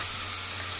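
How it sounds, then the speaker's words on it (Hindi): Soy sauce hits a hot pan of fried tomatoes for veg Manchurian gravy, a loud, steady sizzling hiss that carries on without a break, with no voices over it. "अब हम डाल रहे हैं इसमें सोया सॉस"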